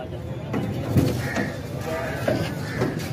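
Goats bleat a few times amid a noisy outdoor scene as goats are loaded onto a cargo vehicle, short wavering cries nearby with people talking in the background.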